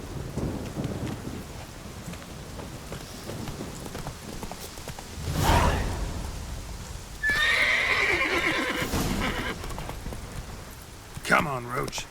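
The horse Roach in The Witcher 3 neighs loudly midway, with hoofbeats, rain and a thunder rumble from the game, while voices talk over parts of the scene.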